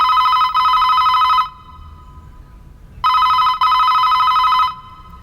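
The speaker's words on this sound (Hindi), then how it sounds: "फोन नहीं उठा रहा," A telephone rings unanswered, two loud electronic double-burst rings separated by a pause of quiet, each trill bright and close; no talking.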